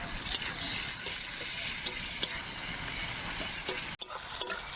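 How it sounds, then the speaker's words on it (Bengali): Chopped onion frying in oil for a meat curry, a steady broad sizzle holding at an even level throughout, with a brief dip near the end. "এবার দিয়ে দেবো কুচানো পেঁয়াজটা।"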